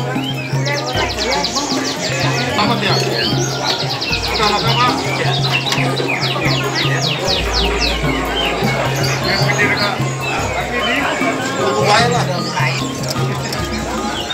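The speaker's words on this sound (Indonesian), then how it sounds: "Ini lokasi tempat penjualan burung ya" Many small birds, pigeons and songbirds, chirp and tweet busily and continuously at a bird market in Sumpiuh, Banyumas, with people talking nearby and a crowded, bustling atmosphere.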